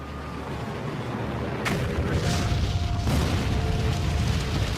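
Deep rumbling booms from Russian nuclear warheads detonating against buried missile silos in the American Midwest, in a documentary. Two heavy blasts roll over a constant low roar.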